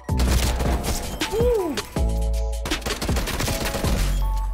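Tec-9 submachine gun fire in Call of Duty Cold War, loud rapid bursts mixed with chaotic combat crashes and whooshing game effects, with shots continuing in clusters throughout.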